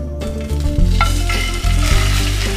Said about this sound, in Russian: Перехожу к обжарке яичных блинчиков.